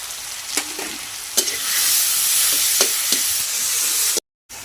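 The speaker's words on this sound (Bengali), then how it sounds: "এবার মশলার মধ্যে ঢেলে দিলাম, ভালো করে 10 থেকে 15 মিনিট ধরে কচুটাকে কষিয়ে নেব।" Large taro pieces tipped into spice masala of Kashmiri chili, tomato, salt and turmeric fry with a loud, steady sizzle, punctuated by a few sharp spoon scrapes, close up, before a brief cut to silence near the end.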